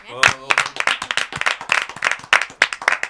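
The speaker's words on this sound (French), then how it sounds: "On vous applaudit bien" Lively studio audience applause on a French television talk show, quick rhythmic clapping with distinct loud hand strikes over about three seconds, some voices mixed in.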